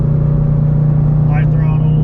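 A Toyota GR86 fitted with an aftermarket over pipe and front pipe holds a loud, steady exhaust drone at about 5,000 rpm, heard up close from inside the car.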